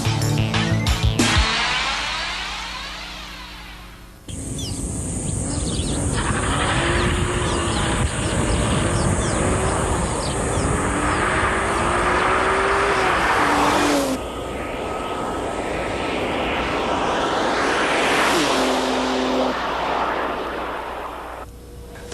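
Jaguar XJ220 prototype 004 being driven out of the workshops, engine loud and close, revving and changing pitch through the gears with a brief drop in level partway through, no voices.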